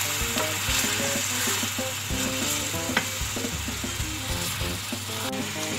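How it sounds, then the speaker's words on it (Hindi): Garlic fries alone in a pan as the first step of a spicy biryani, giving a continuous close sizzle with intermittent scraping of a spoon stirring, over a faint steady background hum. "सिर्फ लहसुन में ही भूनना है।"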